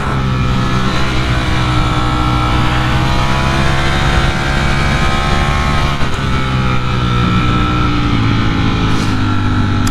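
A Ducati Streetfighter V4 hypernaked motorcycle being ridden on a test ride, its engine droning loudly and steadily with smooth rising and falling pitch throughout, heard close from the bike with wind noise.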